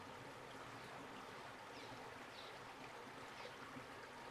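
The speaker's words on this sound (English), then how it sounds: "if you can hear the gurgling of the water behind me" A stream gurgles steadily outdoors, a continuous soft wash of flowing water with no breaks, faint and alone.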